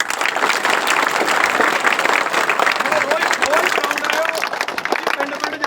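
An audience at a free kabaddi training camp on a village school ground in Bardwal breaks into loud, dense clapping that holds steady for several seconds, with a few shouts mixed in before it tapers slightly.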